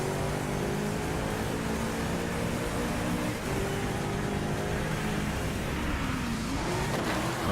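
A car drives a Japan circuit in the racing game Driveclub, its engine a continuous loud roar that rises and falls slightly as it runs, with no talking.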